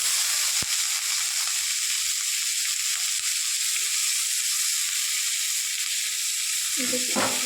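Tomatoes, onion, ginger and garlic fry in a pan with a constant loud, bright sizzle, a sharp tap early on and a short burst of stirring scrapes at the close.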